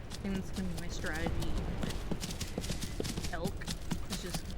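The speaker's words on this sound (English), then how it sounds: "Just watch for one of the cow elk to trip and chase her, and just chase the herd until she's weak" Elk herd hooves thudding in a rapid galloping clatter in the wolf-simulation video game WolfQuest, steady and continuous under a person talking throughout.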